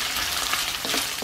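Pork belly sizzling in its own rendered fat in a pan, a continuous bright crackling fry with small pops, close and alone.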